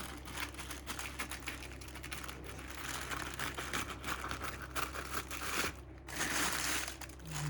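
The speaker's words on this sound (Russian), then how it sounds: "Открываем пакет." Crinkly plastic rustling and crumpling, close and steady, as a roasting bag holding a duck baked with apples is pulled open over a low background hum.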